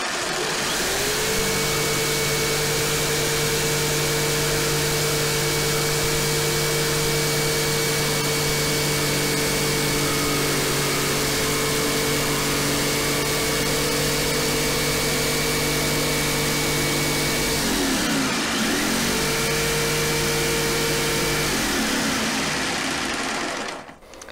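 A Bosch GST 160 BCE jigsaw cuts with a loud, steady buzzing whine that runs continuously, dips briefly near the end, picks up again, then stops.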